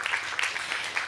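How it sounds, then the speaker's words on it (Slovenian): Short, lively applause from a jazz audience, uneven bursts of hand claps rising and falling over about a second with no talking. "mislim, da si zasluži aplavz"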